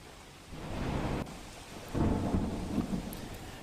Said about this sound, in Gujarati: ભારે વરસાદ વરસી રહ્યો છે